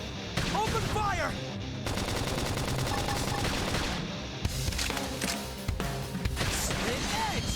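Rapid gunfire from a mech battle in Xenoblade Chronicles X, sustained bursts of shots layered with game music and battle effects, with spoken voice lines in the mix.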